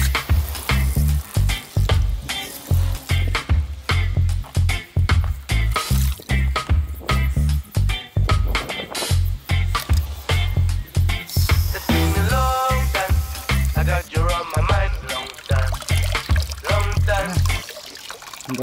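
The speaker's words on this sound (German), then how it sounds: "Jetzt können wir da mal mit Wasser ein bisschen nachspülen." Water is rinsed through a diesel particulate filter removed from a car, giving repeated loud splashing, sputtering bursts in an uneven rhythm for nearly twenty seconds, close by and with no talking.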